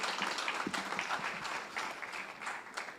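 Audience applause for a university research week panel, a dense steady wash of many hands clapping at moderate volume in a hall, continuing evenly for a few seconds.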